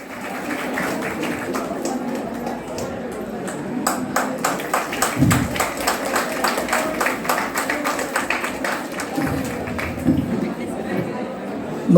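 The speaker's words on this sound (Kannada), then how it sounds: "ವಿದ್ಯಾರ್ಥಿಗಳು ಚಪ್ಪಾಳೆ ಮುಖಾಂತರ ಇವರಿಗೆ ಅಭಿನಂದಿಸಬೇಕಾಗಿ ವಿನಂತಿ" Students applauding an award winner at a college student union closing ceremony, a steady crowd clap of many hands rattling on for several seconds amid chatter and murmuring in the hall.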